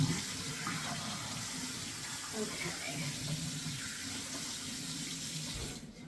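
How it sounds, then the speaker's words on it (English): Cold tap water runs steadily into a sink to rinse a crocheted or knitted wool garment being blocked, a continuous close splashing rush with a brief spoken word over it. "Throw in a little bit of cold water just to rinse it."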